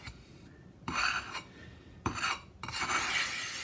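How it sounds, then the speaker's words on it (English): Hand grinding of grape skin pigment, heard as two long gritty rasping passes of stone or muller over a hard surface, close and moderately loud, with quiet gaps between them and no talk. "But this is hand grinding,"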